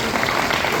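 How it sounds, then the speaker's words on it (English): Audience applause at a Hall of Fame ceremony in New Castle, a brief steady wash of clapping filling the room without a break. "Let's give them all a round of applause"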